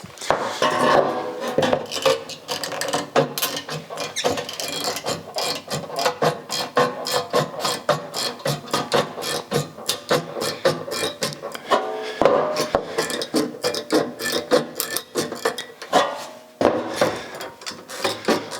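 Metal snips cut a trim piece while a Plumb Crazy AWD Charger is being worked on, giving a dense run of sharp crunching clicks and scraping bites that repeat steadily and close by, with no talk.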